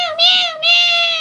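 A voice imitates a cat with a loud, close, drawn-out meow that swells twice in one continuous wail.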